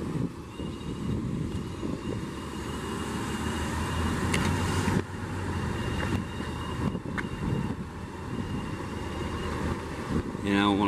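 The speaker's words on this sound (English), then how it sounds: "I'm right by a main road and it's loud" Road traffic beside a busy main road: a continuous loud rumble of passing vehicles with wind buffeting the microphone, rising and falling as cars go by.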